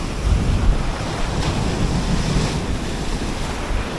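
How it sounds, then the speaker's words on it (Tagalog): Big ocean waves crash on shore at a camp fishing spot, a continuous loud wash of surf with wind buffeting the microphone and no speech. "pero ang lalaki talaga ng mga alon."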